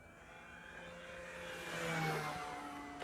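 An RC Pilatus PC-21 model airplane with a 1.1 m wingspan flies past. Its electric motor makes a faint whirring drone that rises and swells toward the middle, then eases slightly.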